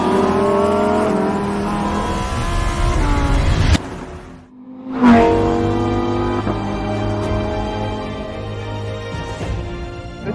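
Lamborghini Huracán EVO RWD engine loud and close while driving, climbing through revs in rising harmonic sweeps, dropping off briefly on a gearshift lift, then pulling hard again and holding steady.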